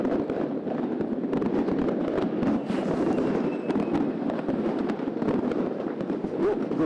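Fireworks and salutes for New Year's night in Yakutsk rumble and crackle all around, a steady, loud wash of overlapping bangs from many directions without a break.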